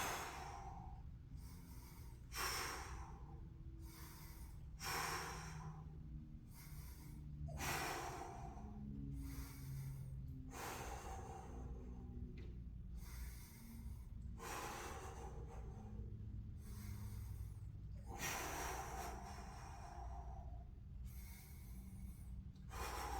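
Heavy, rhythmic breathing and gasping from someone holding a hollow hold during a kettlebell and calisthenics workout, with repeated forceful exhales and inhales close to the microphone over steady background noise.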